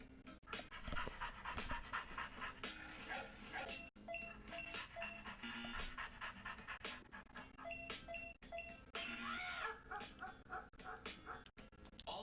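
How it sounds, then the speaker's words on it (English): A dog pants steadily and whimpers while scratching at a suitcase in a Minecraft game, with yips scattered through and quick breathy bursts repeating over about twelve seconds. "a dog is clawing at your suitcase"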